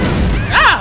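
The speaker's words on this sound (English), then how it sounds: "That is a maximum strength mortar right there." A maximum strength mortar shell bursts in Worms Armageddon, a loud close thud with a sweeping whine rising and falling through it, over a continuous low rumble.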